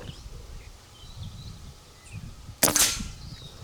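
A single sharp crack from a Barra 250z air rifle fired while squirrel hunting outdoors, sounding near and loud, with quiet birdsong, insects and rustling around it.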